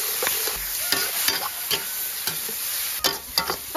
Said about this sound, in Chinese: 翻炒一会儿